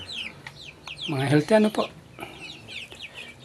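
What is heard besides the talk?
heritage chickens clucking on mini farm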